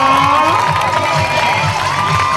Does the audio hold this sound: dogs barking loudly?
no